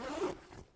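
A zipper on a Crawler TRC 458 shower tent is pulled in one quick, close, rasping stroke that fades out within a second.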